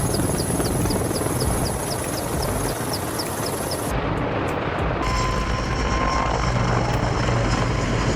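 Heavy Mil Mi-26 firefighting helicopter, constant and loud rotor and engine roar, with a deep throbbing thrum and a high turbine whine throughout.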